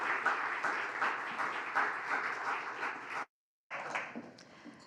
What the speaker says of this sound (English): So let's give them all a warm round of applause.